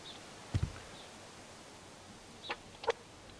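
A chicken in the survival video game Subsistence clucks in a few short, separate bursts: one pair early on, then two more a couple of seconds later, over a quiet ambient background.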